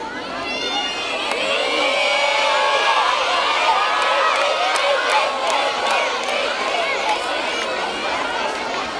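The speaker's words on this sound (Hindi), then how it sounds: "काफी चेयर अप हो गए हैं आप लोगों के लिए।" Audience at a school debate on whether primary education should be in the mother tongue or English cheers and shouts continuously, a loud crowd roar of many voices, children's yells and whoops, sustained throughout.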